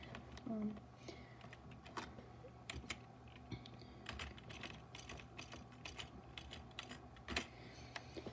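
A username is typed on a computer keyboard in quick, irregular bursts of light clicking keystrokes, soft and close, with occasional pauses between runs of keys.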